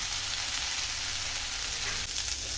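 Spices, tomato and poppy seeds roasting in a pan over a low flame for a Kannada egg-chicken curry, giving a steady, close, even sizzle and crackle with no pauses.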